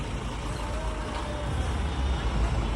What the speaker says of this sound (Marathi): चला गाडीत आपली गाडी आली.